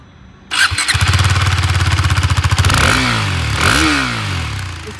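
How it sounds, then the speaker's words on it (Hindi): A KTM RC390 motorcycle starts up with a sharp squeal, then its single-cylinder exhaust note thrums in a rapid, loud, steady pulse before two rising revs swell and fall away, close up and without talk. "अब लास्ट एक बार इसके एग्जॉस्ट नोट सुन लेते"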